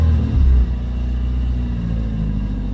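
A 2002 Nissan Sentra SE-R Spec-V engine at operating temperature after a throttle body replacement, with a brief swell in the low engine rumble early on before it settles into a steady, close idle drone.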